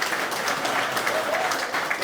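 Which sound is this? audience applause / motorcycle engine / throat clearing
audience applause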